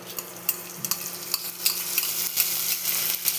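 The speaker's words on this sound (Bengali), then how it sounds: "চালটা দিয়ে এটা হালকা মতন ভেজে নেব" Rice fries in hot oil with whole cumin seeds and a dried red chilli, a constant bright sizzle with frequent scraping stirs of a spoon against the pan.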